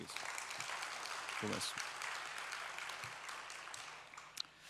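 A church congregation applauds the choir after a hymn, producing a sustained wash of many hands that tapers off at the end, with someone speaking briefly over it.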